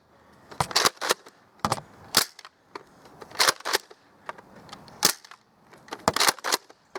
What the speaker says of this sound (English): I'm doing 6 shots, because it only came with a 6 dot drum.